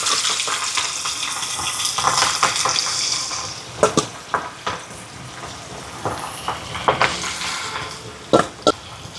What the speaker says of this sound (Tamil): இறாலை பொரிக்க போடுவோம்.